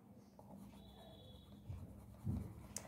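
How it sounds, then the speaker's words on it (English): Soft scratchy scribbling of a colored pencil coloring on paper, faint and close, with a couple of slightly louder rubs toward the end. "take out pencil color and color it here"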